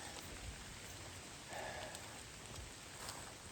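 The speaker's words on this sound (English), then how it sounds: "Oh look, it's raining again." Faint, steady rain patters down evenly in the background, a soft continuous hiss with occasional drips.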